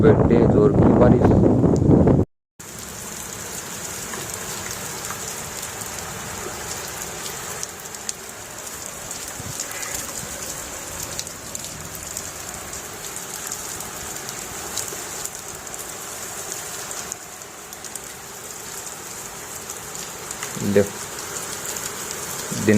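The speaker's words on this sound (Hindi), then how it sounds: "ओ बेटे जोर की बारिश।" Heavy rain pours steadily in a village in Jhunjhunu during a sudden early-morning storm, a dense hiss that holds evenly from start to finish, with a brief gusty burst at the beginning and a faint bump near the end.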